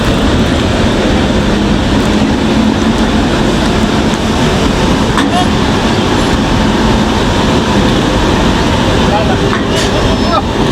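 A train pulls out of a station, loud and close by, with a dense, continuous rumble and rattle of wheels and carriages. Faint voices sit beneath the noise.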